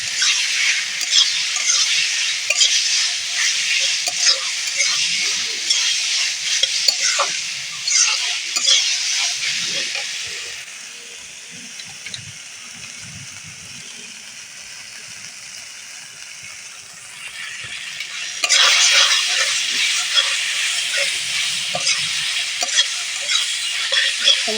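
Spice paste with melted tomato stir-fries in a pan with a loud, dense sizzle and frequent scraping strokes, which drops to a quiet simmer midway before the loud frying returns. There is no talk.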